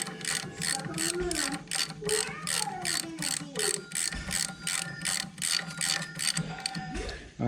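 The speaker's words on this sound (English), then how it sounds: "now I'm going to go ahead and I'm tightening these down right here" A hand ratchet tightens bolts on tubular control arms during a car front suspension job. It gives a steady, rapid run of close, crisp clicking strokes with a few brief pauses and no talk.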